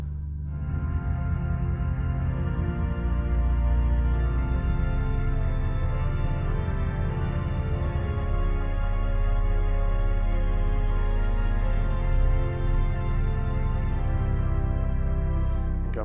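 A 1906 Felgemacher pipe organ plays full and sustained with couplers added, its rich layered chords holding steady and loud throughout, with no talking.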